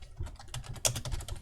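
Quick, close keystrokes on a computer keyboard, a rapid irregular clatter of key presses with one sharper tap partway through, quiet and without talk.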